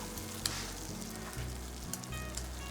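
Scallops and smoked coppa fry in a lightly oiled pan, giving a steady close sizzle throughout with a few small pops and crackles, no voices.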